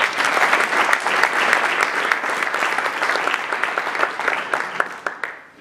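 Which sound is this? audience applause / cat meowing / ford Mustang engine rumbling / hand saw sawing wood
audience applause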